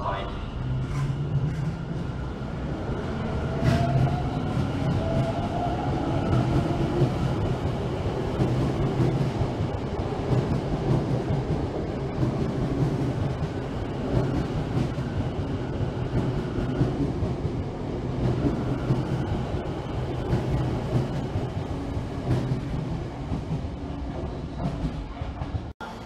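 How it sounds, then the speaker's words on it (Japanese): A Tokyo Metro Fukutoshin Line subway train departs a platform, its steady rumbling wheel and motor noise continuous and fairly loud throughout, with platform announcements and voices audible underneath. "電車は発車いたします。"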